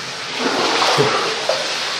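Someone wades through deep water on foot, splashing steadily at close range, with a few brighter sloshes and no voices.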